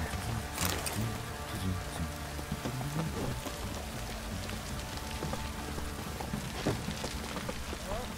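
Steady rain in The Witcher 3 video game patters on surfaces, filling the whole stretch without letting up, with soft tonal music lingering beneath the downpour.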